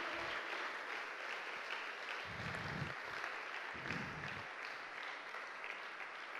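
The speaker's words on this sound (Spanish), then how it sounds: "dale un fuerte aplauso al Señor de señores y Rey de reyes" Church congregation clapping during a Spanish-language sermon, a steady, fairly quiet wash of many hands applauding with a couple of low rumbling thumps in the middle, continuing throughout.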